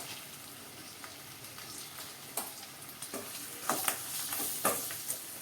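Gunda (lasoda) sizzles in a pan as mango and chilli pieces are stirred in, a soft steady frying hiss broken by scattered clicks and scrapes of the spoon, close and fairly quiet.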